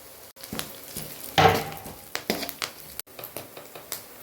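Green chillies and curry leaves sizzle in hot oil for jeera rice: an even crackling fry, broken by a loud hiss as the leaves go in and by scattered stirring scrapes and taps against the pan.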